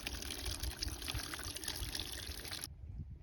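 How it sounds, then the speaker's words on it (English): Water runs into a sheep's drinking trough on a hot day, a close, steady trickle and splash that cuts off abruptly near the end, leaving quiet ambience. "fill up the water while I'm here."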